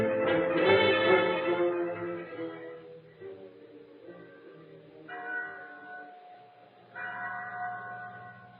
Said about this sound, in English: There was a bell in the chapel at San Pedro.